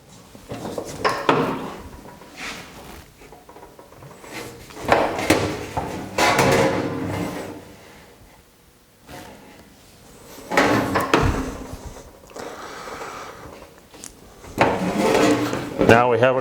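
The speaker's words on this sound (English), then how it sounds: "So we're going to do this on our 10-knucker 4-foot box and pan brake." Sheet metal end caps being cross-broken on a 10-knuckle, 4-foot box and pan brake, with several loud metallic clanks and bangs in separate bursts and quieter gaps between them.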